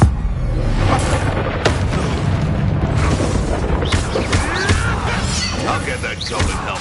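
Spell blasts from Confringo and Bombarda burst over busy game combat in Hogwarts Legacy, several booming impacts and crashes in quick succession under shouted spell names and steady background noise.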